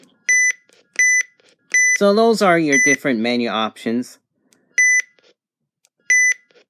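Menu buttons on a Radio Shack 12-259 handheld weather radio give short, evenly spaced electronic beeps, close and clear, with someone speaking briefly between them.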